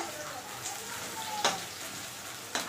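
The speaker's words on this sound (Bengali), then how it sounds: "এদিকে বেরেস্তা ভাজা হচ্ছে" Sliced onions fry for chicken biryani beresta, a soft, low sizzle with two sharp clinks or utensil taps breaking through, heard close and fairly quiet in a home kitchen.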